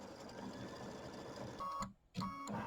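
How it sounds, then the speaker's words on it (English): A sewing machine quilts the borders of a gnome-themed quilt, running as a steady, continuous mechanical whir that cuts out for a moment and then starts up again. "I'll go ahead and turn off the video while it's quilting, because it takes a little while to do the quilting"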